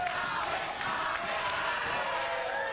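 Steady, loud roar of a wrestling crowd cheering on a favourite before a steel-cage bout, with whoops and shouts rising over a constant wall of voices.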